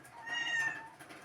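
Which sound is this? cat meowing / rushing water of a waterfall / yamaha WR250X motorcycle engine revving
cat meowing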